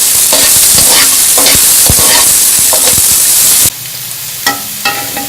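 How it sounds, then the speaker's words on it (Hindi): Green peas sauté in ghee in a pan over low heat, giving a loud, dense sizzle with scattered stirring scrapes that suddenly drops to a quieter hiss punctuated by a few sharp utensil taps near the end. "गाजरें हमने निकाल ली हैं, इसी घी में हम मटर डालेंगे, इसको भी सोटे करेंगे।"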